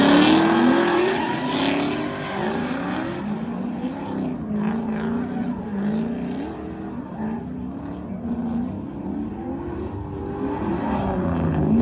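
A race car engine in a racing video game roars loudly and without a break. Its pitch keeps climbing and dropping as it revs through shifts and corners, with no talking over it.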